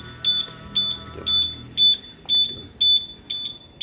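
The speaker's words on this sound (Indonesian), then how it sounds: "alarm kedua dia lebih lama beberapa detik gitu" A Honda keyless motorcycle anti-theft alarm sounds in a rapid, even series of about eight sharp, high electronic beeps, loud and close, with faint background noise between them.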